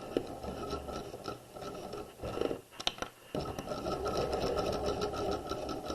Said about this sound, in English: And then we're going to stitch down the seam, keeping the edge of the fabric at the 5/8 inch mark.